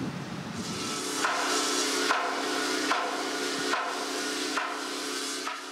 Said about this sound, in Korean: 깡깡이는 바로 이 망치질 소리 때문에 붙은 이름입니다.